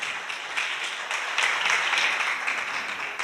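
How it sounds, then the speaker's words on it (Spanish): A church congregation applauds to welcome a guest, steady broadband clapping at moderate volume running throughout, with no talk over it. "Te recibimos con un fuerte aplauso."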